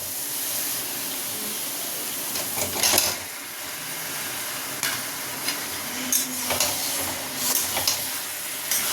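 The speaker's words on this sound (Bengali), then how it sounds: "এবার এর মধ্যে চিকেনগুলো দিয়ে দেবো" Chicken pieces added to a pan of fried spice masala with Kashmiri red chilli powder, turmeric, cumin and coriander give a steady close sizzle and hiss, broken by a few louder bursts and stirring scrapes, with no talking.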